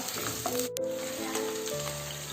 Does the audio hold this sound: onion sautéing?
yes